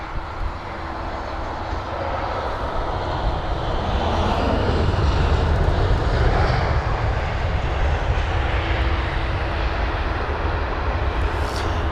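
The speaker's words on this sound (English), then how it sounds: "it was the A319, so that is BA591 arriving from Milan" A British Airways Airbus A319 airliner arriving at London Heathrow, a steady broad roar of jet engines that swells toward the middle of the clip and stays loud throughout, with no speech over it.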